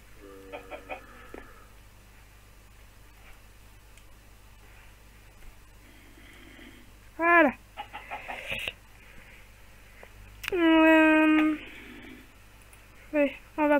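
Video-game chicken clucking in short bursts and a couple of louder squawks spread across the stretch, with quiet gaps between, near and clear.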